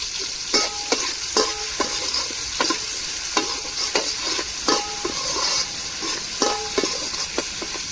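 Tomatoes and onions sauté with salt in a pan, giving a continuous close sizzle broken by regular scraping stir strokes roughly every half second, with no voices.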